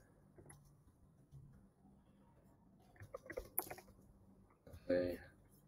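Keys tapped on a computer keyboard in short uneven bursts, quiet and close, with clicks bunching toward the end, faint room noise between strokes.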